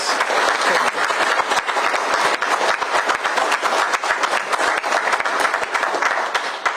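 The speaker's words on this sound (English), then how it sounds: "Would you please give her a round of applause?" A room full of people applauds at the unveiling of a CBP training facility, dense continuous clapping held at an even, loud level from start to finish.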